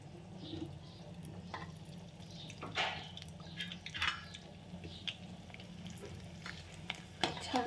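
Sabudana and potato chakli spiced with green chilli fry in hot oil in a kadhai, giving a soft, continuous sizzle with scattered small pops and bubbling, quiet and close with no talking.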